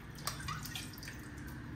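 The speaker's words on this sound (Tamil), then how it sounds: "தேவையான அளவு தண்ணி, நல்லா இந்த குடல் முங்குற அளவுக்கு தண்ணி ஊற்றிடுங்க." Water is poured over tripe in a pressure cooker, a faint, continuous splashing trickle with small drips close by.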